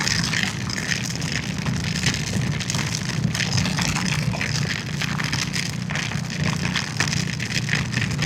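Heavy rain while riding a motorcycle on a highway from Vadodara to Jaipur, a dense continuous hiss of rain and road spray with wind rush and engine drone, steady and loud throughout.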